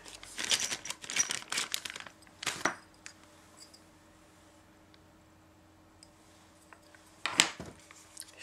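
Plastic bag of accessories for a DJI Osmo Pocket camera being opened, with bursts of crinkling and rustling in the first three seconds, a quiet stretch, then another short crinkle near the end. Close and fairly quiet, with no talking.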